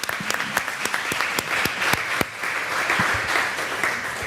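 An audience at a city council meeting applauds women police officers: a sustained, even round of clapping with a few sharper individual claps standing out near the start.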